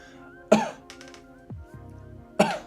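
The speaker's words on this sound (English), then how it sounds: "your snare, you're actually going to cough" Two sharp, close coughs spaced about two seconds apart, with quieter throat sounds and faint music in between.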